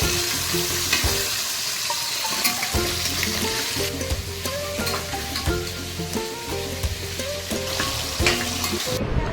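Ingredients for a Godavari-style Andhra fish curry frying in a pan, a steady loud sizzle with frequent stirring and scraping strokes throughout, no voices.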